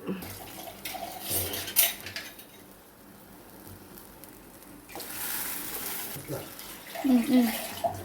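Water poured into a Kerala-style fish curry made with kudampuli (Malabar tamarind), splashing and trickling into the pot in two bursts with faint kitchen clatter, fairly quiet and close.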